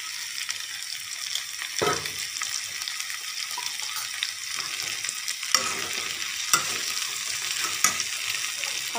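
Ivy gourd (kundru) stir-frying in a pan, a continuous bright sizzle running throughout, broken by a few sharp clinks and scrapes of a spoon stirring, close and moderately loud with no talking.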